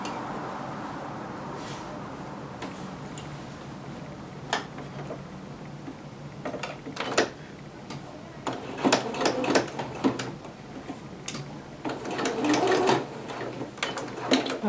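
A sewing machine stitches a dress strap in short bursts of rapid ticking that come and go, with quiet pauses and handling sounds between runs.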